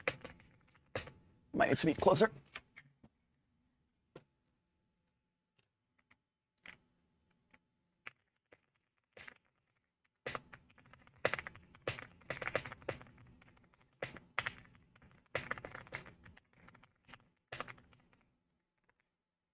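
Computer keyboard typing, faint and close, in scattered bursts of clicking keys with quiet gaps between, plus a short voice remark near the start.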